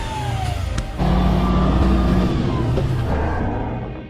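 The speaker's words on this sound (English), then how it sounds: "powerful sound from the V12 engine, creating an unforgettable experience." The V12 engine of a heavy off-road log-hauling truck roars up close, a loud, deep drone whose pitch climbs as it pulls under load, then tapers off at the end.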